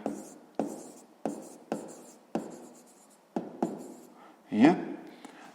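Pen writing a sixth-grade math solution by hand on paper, a close series of quick scratchy strokes in short regular bursts, ending with a louder rub or tap.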